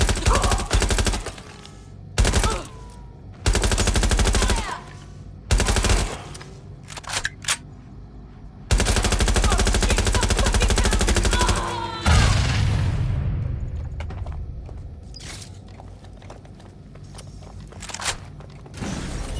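Bursts of automatic gunfire from a suspect in Watch Dogs Legion, loud rapid volleys separated by short gaps, with one long sustained burst midway and fading echoes afterward.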